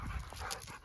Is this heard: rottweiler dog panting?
yes